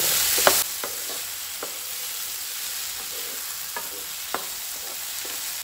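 Soy chunks and cashew pieces added to cooked tomato and frying in a pan, with a steady close sizzle and scattered sharp stirring clicks and scrapes, no voices.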